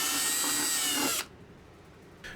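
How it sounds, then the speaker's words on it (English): A power drill bores pilot holes into the tray of a Legend Hobby Savage Bobber model aircraft kit, running loud and steady for just over a second, then stopping, with a brief faint restart near the end. "drilled a couple of pilot holes from the inside"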